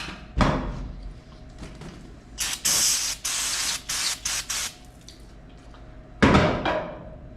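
A pressure sprayer blasts water over cleaned, slightly rusty 1930 Ford Model A parts in several close, loud hissing bursts, with quieter gaps between spurts.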